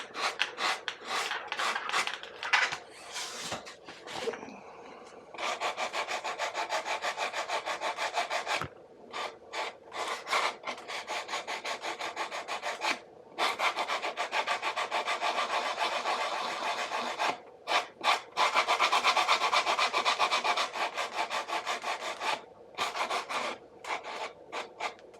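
Finer-grit sandpaper rubs back and forth over a foam RC plane's damaged surface, a steady close rasping scrub in repeated strokes with brief pauses, no talking.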